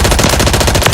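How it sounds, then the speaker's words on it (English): A thermobaric explosive goes off in a shooter video game, heard as a loud, rapid rattling series of blasts in a steady fast rhythm, with no talking. "Thermobaric going out."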